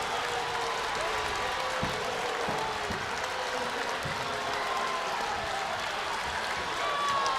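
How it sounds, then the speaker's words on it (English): Crowds on both sides of a high school boys basketball gym, Greenfield-Central at Pendleton Heights, applaud in a steady wash of clapping and murmur, with sneaker squeaks and a few thumps on the court. "And you can hear the applause"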